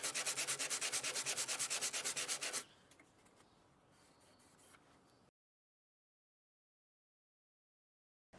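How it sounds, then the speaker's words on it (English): Light hand sanding of wooden dowel ends on a vintage stool, a fast rhythmic back-and-forth rasp for a couple of seconds, then softer scattered rubbing before silence; close and without talk. "Then we can give each dowel end a light sanding to finish it."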